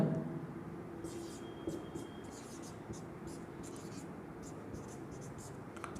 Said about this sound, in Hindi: इसको 1 का हल तो यहाँ लिख लेते हैं हम लोग